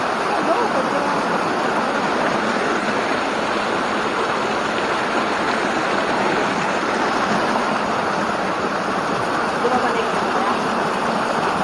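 Dense, steady rushing of falling water fills the scene, a loud continuous roar without breaks.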